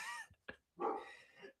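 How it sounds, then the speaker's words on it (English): A puppy lets out a few short barks and yips nearby, sharp isolated bursts with pauses between them, fairly quiet overall. "the pups barking"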